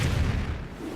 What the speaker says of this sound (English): So many missiles.